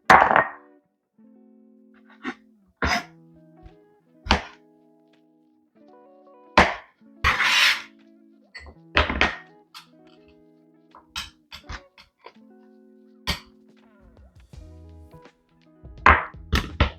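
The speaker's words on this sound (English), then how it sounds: "I'm in the process of slicing them. These are grape tomatoes." Knife slicing grape tomatoes on a cutting board in a kitchen, a series of sharp, irregular chops and taps close by with quiet pauses between cuts.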